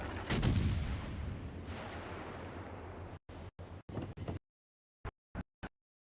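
Naval guns boom in the World of Warships game as a Phoenix cruiser fires on a battleship, a heavy roaring blast that decays, then several short clipped shots.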